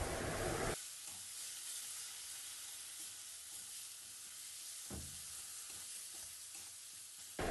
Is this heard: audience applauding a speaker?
no